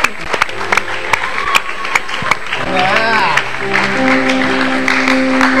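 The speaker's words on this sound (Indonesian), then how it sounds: "di saat kamu dengar tepuk tangan yang sama dan sekali bangun dari tidur kamu sekarang" Sharp, scattered handclaps from a studio audience ring out over the first couple of seconds on a television show, then give way to people talking.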